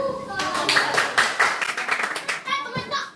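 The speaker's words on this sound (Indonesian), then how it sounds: "Beri tepuk tangan" A group of children in a primary school class claps together in a quick, lively burst, with young voices chattering underneath.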